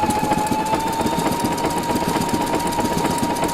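A sewing machine stitches fabric laid over stabilizer with a wing needle, running as a steady, loud, fast mechanical chatter with an even hum and no talk.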